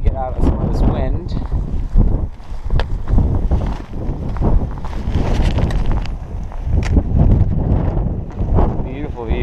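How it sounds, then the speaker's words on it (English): Strong wind buffets the microphone on an exposed hiking trail, a loud continuous rumbling roar with gusts, while a person talks over it. "Hopefully get out of some of this wind."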